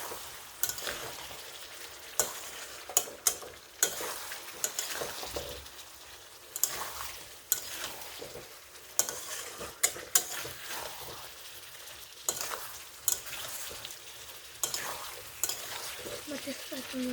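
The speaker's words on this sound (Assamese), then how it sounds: "আৰু জিৰাৰ গুড়িখিনি এড কৰাৰ পিছত মই মাংসখিনি আৰু অলপ লাৰি দিছোঁ।" Meat frying with cumin powder while it is stirred, a soft continuous sizzle with irregular scraping and tapping of the spoon against the pot, fairly quiet throughout.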